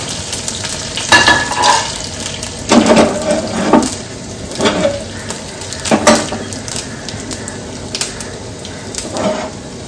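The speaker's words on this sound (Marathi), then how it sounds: "मोहरी घालते, हिंग घालते आणि कढीपत्ता घालते।" Mustard seeds, asafoetida and curry leaves sizzle loudly in hot tempering oil, bright crackling bursts flaring up with each addition over a steady hiss, close by, with no voices.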